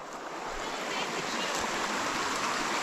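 A mountain river in the Carpathians rushes steadily nearby, a dense continuous broadband roar of flowing water with a few faint voices underneath.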